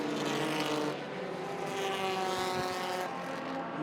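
Stock race cars at Southern National Motorsports Park in a UCARs Thanksgiving Classic, running nose to tail in a tight pack, engines roaring loudly and continuously as they sweep past, with a brief dip and swell as the field goes by.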